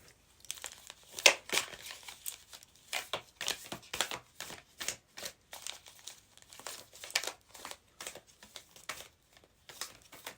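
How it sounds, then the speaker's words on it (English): A deck of cards being shuffled by hand, a series of crisp papery riffles and flicks in irregular bursts, close and fairly quiet, with no speech. "These are so annoying to shuffle."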